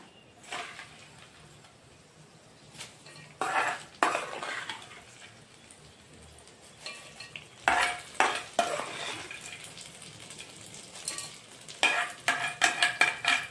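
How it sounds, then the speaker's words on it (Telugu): A spoon scrapes and clinks in a pan as a fried tempering is stirred into a mango pulp mixture, irregular bursts of metallic stirring that grow busier toward the end, with no talk. "ఆ తాలింపును కూడా వేసేసుకుందాం"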